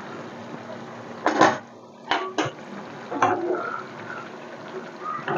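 Lid lifted off a pot of drumstick and potato curry: a sharp metallic clank and a couple of lighter knocks of the lid against the pot, close up, with faint bubbling underneath.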